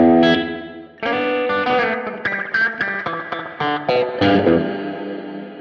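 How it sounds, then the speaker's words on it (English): Classic spring reverb from a Flamma FS02 reverb pedal trails a loud, bright, distorted electric guitar playing a series of sharp chord and note attacks, each tail ringing and splashing over the next. "Now the next one is spring, classic spring reverb tang"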